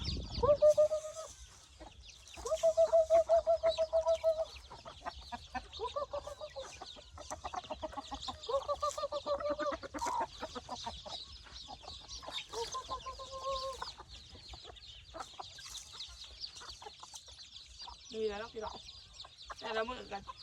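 Chickens clucking and calling after being let out of their coop in a rural rice-field setting, a series of nearby bursts of clucks and squawks, with a voice talking between them.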